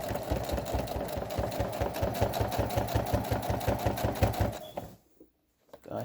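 A sewing machine stitches quilt binding in a fast, steady run of close mechanical clatter, then stops abruptly into near silence near the end.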